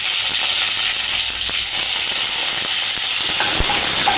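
Curry leaves frying in hot oil with mustard seeds and dried chillies, a loud, steady hiss and sizzle with scattered small pops and crackles throughout.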